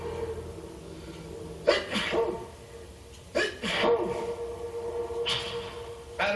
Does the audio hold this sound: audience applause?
no